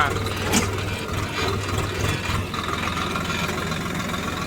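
A tractor engine runs with a steady low throbbing drone while driving over a bumpy field at night, and a voice talks over it.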